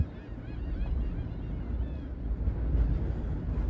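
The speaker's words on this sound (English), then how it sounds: "I scared off a lot of birds." Geese honking as they are startled and take off near Gun Club Road and Port Bay Road, repeated calls carrying over steady wind noise across a windy waterside setting.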